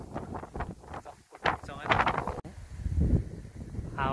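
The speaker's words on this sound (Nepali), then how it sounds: "हावा चलेर है" Outdoor wind in the Romanian countryside buffets the microphone in gusty rumbles beneath a person talking, close and fairly strong through most of the stretch.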